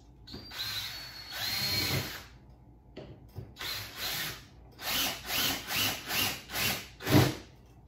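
Power drill driving 3.5-inch rounded wood screws into a wooden stilt fitted with PVC pipe, in short whirring bursts that grow into a steady series of regular pulses, close and clear.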